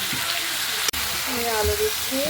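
Potatoes go into a hot pan while cooking shrimp and drumstick curry, setting off a loud, steady sizzle and hiss, with a voice talking over the frying.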